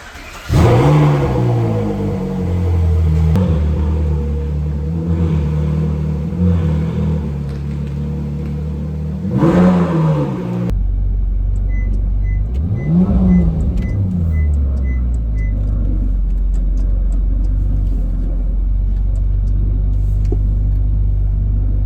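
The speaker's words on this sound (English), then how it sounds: "we're going to hop into the Ferrari" A Ferrari drives with a loud engine that revs up and down in several surges. A cut leads to a lower, steadier cabin rumble broken by one more rev and a faint repeating chime.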